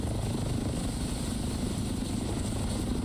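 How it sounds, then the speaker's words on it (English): Steady, close rotor thump and engine roar of a helicopter in a video game, continuous and loud throughout with no talk. "I'm actually just gonna park the heli here and then loot here."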